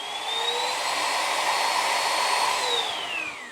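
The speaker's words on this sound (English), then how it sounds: "the vacuum does get slightly louder when you're using boost mode" A Vax ONEPWR Blade 3 cordless vacuum cleaner whirs loudly and close, its high-pitched motor whine rising into boost mode, then easing back down at the end.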